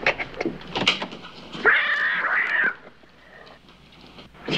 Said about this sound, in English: Oh, you beautiful cat.